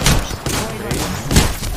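Video game gunfire: rapid bursts of shots at close range, arriving in three or four loud clusters over a busy background of game noise.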